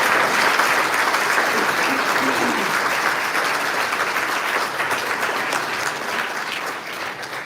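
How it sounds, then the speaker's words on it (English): Sustained audience applause at a quantum technology conference day, loud and dense clapping that slowly fades slightly toward the end. "So big applause to the audience."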